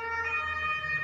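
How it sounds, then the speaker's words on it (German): An ambulance or police siren wails steadily in the background throughout, a clear tonal emergency-vehicle siren with no talking over it, in a German setting near a hospital. "Polizei, Krankenwagen, was auch immer im Hintergrund da jetzt zu hören ist"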